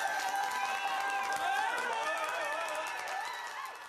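Studio audience at a Nigerian late-night talk show breaks into sustained applause and cheering, a dense steady wash of clapping with whoops that slowly fades toward the end.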